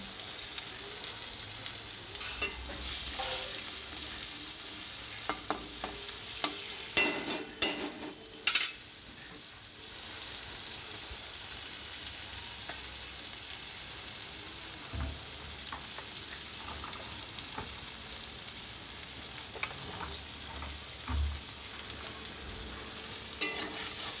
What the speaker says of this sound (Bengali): এর মধ্যেই আমি উচ্ছে আর বেগুনটা ভেজে নেবো